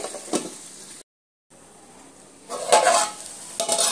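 Intermittent stirring and scraping of okra and meat in a pan with soft frying sizzle, broken by a brief silence, then louder bursts of stirring toward the end.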